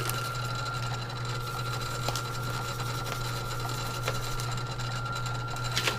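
A rock crusher runs with a steady, even mechanical drone and hum that holds throughout, with a few faint knocks on top.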